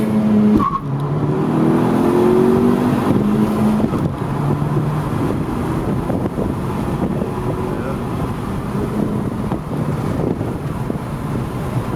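2018 Honda Civic Si with a KTuner tune accelerating hard in first gear with traction control off, engine note rising in pitch over the first few seconds, then continuing as a rough roar mixed with wind and road noise.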